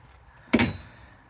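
Car door of a twin turbo Camaro shutting, a single sharp thump near the listener, quiet surroundings before and a short fading tail after.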